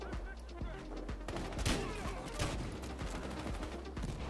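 Pump shotgun blasts in Battlefield Hardline, several sharp, loud reports spaced a second or so apart among lighter gunfire and game noise.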